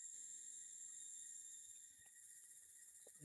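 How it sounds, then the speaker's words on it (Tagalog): Crickets chirp in the late afternoon beside a wide cemented path near the Candle Monument in Doña Remedios Trinidad, Bulacan, a faint steady high trill running throughout with a few soft background knocks. "ang lakas ng huni ng mga kuliglig."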